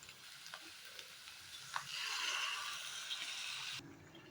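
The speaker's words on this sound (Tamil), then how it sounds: "இப்போ நம்ம லைட்டாக கொஞ்சம் போல் தண்ணி விட்டு கலந்துக்கலாங்க." Water hits a hot pan of potato kurma with a rising sizzle, then stirring scrapes and bubbling frying continue before cutting off abruptly.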